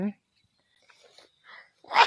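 A single sharp sneeze bursts out loud and near at the end, after brief quiet rustling, with a short voice at the very start.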